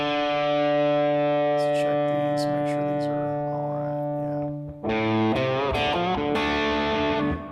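Electric guitar played through a Fractal FM-9 on a patch with octave effect engaged, giving sustained distorted chords that ring out, then a brief break followed by bent, wavering lead notes with echo.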